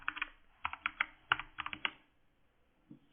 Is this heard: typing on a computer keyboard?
yes